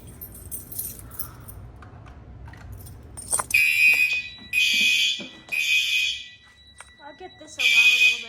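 A basement fire alarm system sounds during a test, giving repeated loud electronic alarm bursts in a steady on-off rhythm, preceded by quieter handling noise and a beeping panel.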